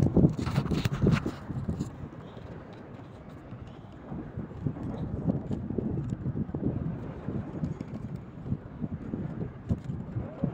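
Cold wind at sea during a fishing trip buffets the microphone in a continuous rough, gusty rumble, with a few sharper knocks early on and no talk.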